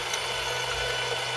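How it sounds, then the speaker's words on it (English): Outside of a brass cartridge case being deburred with a Lee case-prep tool, a steady, close, continuous whirring grind with a low hum underneath, lasting the whole short moment without any talk. "Deburr the outside."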